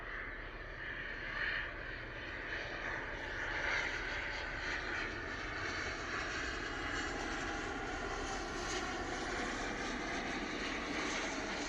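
Pilatus PC-24 private jet landing at an airport, a steady broad roar of jet engines heard from a distance, fairly even in loudness throughout with no talk.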